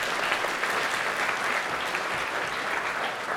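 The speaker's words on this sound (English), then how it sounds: "Let's give them a round of applause." An audience at a multiple sclerosis care event gives sustained applause for the sponsors, a dense, even roar of clapping hands lasting the whole stretch, loud and continuous with no voices on top.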